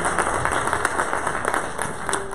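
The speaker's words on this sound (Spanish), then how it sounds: "Un fuerte aplauso al Señor" A church audience applauds, giving a dense, steady round of clapping from many hands that carries evenly through the whole moment, with no voices over it.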